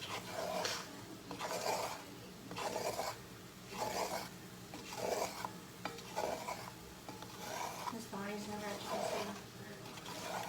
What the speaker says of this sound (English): As we stir, we're going to kind of scrape up all that good stuff at the bottom.